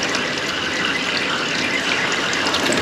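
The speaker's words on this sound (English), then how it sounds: "Clean out the head and run the water slow." Tap water runs steadily into a sink while crayfish heads are cleaned, a continuous close hiss and splash with faint clinks, no voices.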